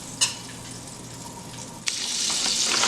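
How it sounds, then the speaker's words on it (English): Butter melting in a cooking pot for Jamaican oxtails with butter beans gives a steady soft sizzle that starts low, then swells louder and brighter partway through after a sharp clink, continuing as an even frying hiss with no talk. "So my butter is melting."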